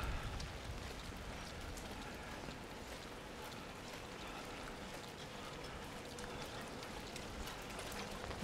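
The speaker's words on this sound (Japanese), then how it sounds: "だいぶ雨が マシになってきたんで良かったです。" Rain falling on a Tokyo street between Ikebukuro and Otsuka, a steady, even patter and hiss of drops on pavement and surfaces, continuous and moderately faint throughout.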